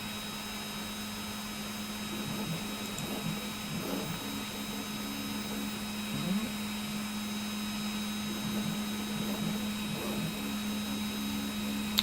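A printer runs steadily in the background of a room, a constant mechanical hum with faint whirring and soft clicks continuing throughout, with no talking.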